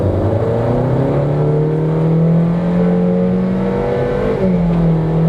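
A Honda CR-V pulls away hard from a standstill with stability control switched off, its engine note climbing loud and close through a rising whine before a brief dip as it shifts and keeps accelerating.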